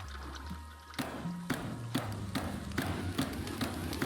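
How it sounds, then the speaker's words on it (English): Water pours from a kettle into a teapot in the cozy game Wanderstop, a soft trickling stream accompanied by a series of light ceramic taps and clinks, with low ambient music beneath. "Pour some water."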